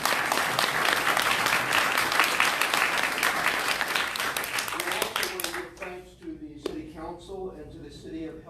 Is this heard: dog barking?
no